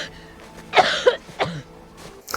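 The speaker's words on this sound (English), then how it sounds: "She's coughing." A woman coughs in a few short, rough bursts close by, with a brief throaty catch between them and quiet room sound around.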